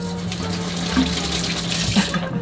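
Water pours steadily from a tall new kitchen tap into the sink aboard a sailboat, a close, even splashing stream with a low hum beneath.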